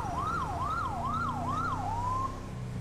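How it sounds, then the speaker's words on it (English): A police car siren in GTA 5 wails in a steady rising-and-falling cycle, about four sweeps close and loud, then breaks into a single flat tone before cutting out, with an engine rumbling beneath. "Kill my siren."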